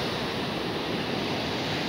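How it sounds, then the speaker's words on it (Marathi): Water pouring down from the Panchnadi dam toward the river below, a dense, continuous rushing roar heard close and loud with no voices. "पाणी नदीला जातो खालती."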